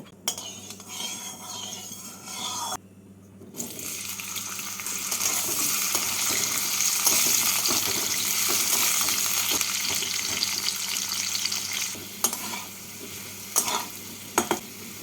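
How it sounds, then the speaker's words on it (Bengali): Potatoes frying in a small amount of white oil in a wok, a loud steady sizzle with stirring and occasional utensil clinks, after a brief quiet gap near the start. "এর মধ্যে প্রথমে আমি আলুগুলোকে ভেজে তুলে রাখব"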